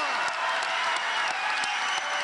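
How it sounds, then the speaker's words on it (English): Raucous crowd at a presidential rally clapping and cheering, a dense, continuous roar of applause with scattered sharper claps throughout. "Raucous crowd for the president this week."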